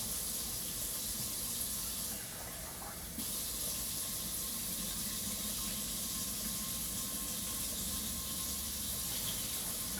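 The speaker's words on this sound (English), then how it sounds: "I just pour water in here and then I just stir it with my hand until you see it kind of get cloudy, and then I rinse it out" Rice is washed by hand in water and rinsed out, giving a steady rushing hiss of running water with a short dip partway through, close and continuous, with no talking.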